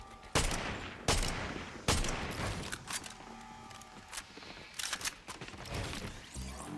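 Huntress DMR rifle shots in the video game Fortnite: several sharp, loud single cracks spaced about a second apart, then denser clustered fire with mechanical clicks.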